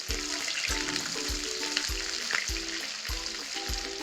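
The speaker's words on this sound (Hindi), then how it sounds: "तो कटहल हमारा जब तक फ्राई हो रहा है" Jackfruit pieces fry in hot oil with a steady bright sizzle, broken by a regular series of low knocks from stirring, close and alone with no talk.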